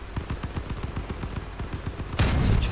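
Rapid, evenly spaced gunfire bursts from the Crossout vehicle combat game, ending in a louder heavy blast.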